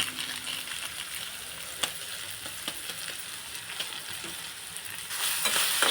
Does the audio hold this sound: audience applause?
no